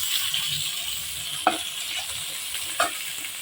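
Spices for a baghar temper frying in hot oil hiss in a steady sizzle, with two sharp pops or clinks standing out, close by and with no voices.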